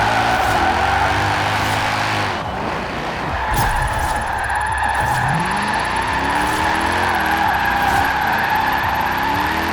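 A 2010 BMW M3 GTS in the racing game Forza Horizon 4 skids through a drift, its tires squealing loudly and continuously over a droning engine that dips and climbs in pitch, with no talk.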